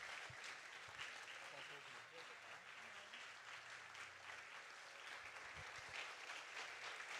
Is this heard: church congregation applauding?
yes